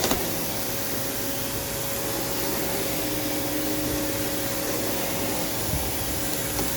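Kenmore Progressive vacuum cleaner running indoors in a living room, a steady loud motor drone with a constant whine and airy rush, unbroken throughout with a faint bump near the end.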